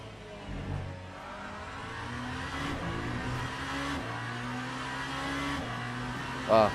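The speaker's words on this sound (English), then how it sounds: "The sound of the hypercar is so much different." A Le Mans hypercar engine in a racing video game hums and revs through gear changes, a steady mechanical drone with rising and falling pitch, with a brief sharp sound near the end.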